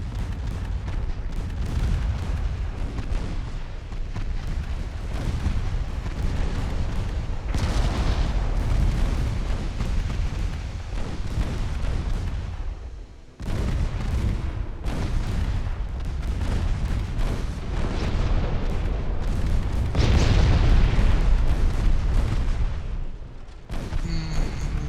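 Torpedo hits and gunfire exploding against warships in the naval battle game Ultimate Admiral Dreadnoughts, a dense run of loud booms and rumbling blasts that barely lets up, with a short gap midway and a heavier surge near the end.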